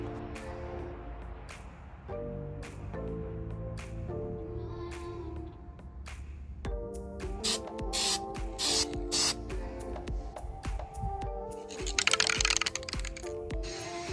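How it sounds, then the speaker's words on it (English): Short hissing bursts of spray paint coat metal Land Cruiser tire carrier parts with Steelite coating, repeated in quick on-off pulses with faint clicks and handling noises, close by and without talk. "I sprayed all the parts with Steelite coatings, my absolutely favorite paint for all my metal parts."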